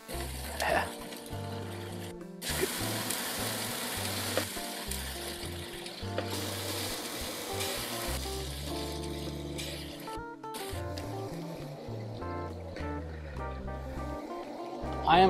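Chicken wings, flappers and drumettes, sizzle over flaring grill flames, a broad hissing crackle mixed with background music, fairly loud and continuous with brief dips.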